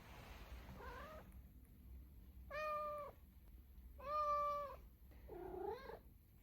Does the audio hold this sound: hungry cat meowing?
yes